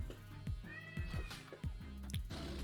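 A pet cat meows several times in close succession, fairly quiet, with a drawn-out, whiny call rising over a low rhythmic background; no speech.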